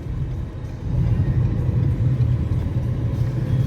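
Steady low road rumble from a 2018 Lincoln MKZ hybrid car being driven, engine and tire noise holding constant and growing slightly louder after the first second, with no talking.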